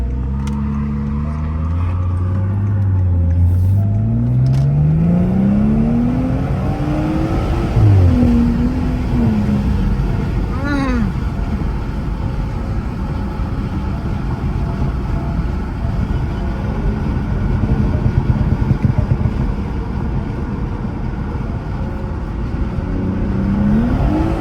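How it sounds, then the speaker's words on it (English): A BMW M540 accelerates hard with rising and falling engine revs through gear changes, a loud steady drone heard from inside the car, with faint crackling exhaust pops scattered between the pulls. "Can y'all hear the little bat pops and shit?"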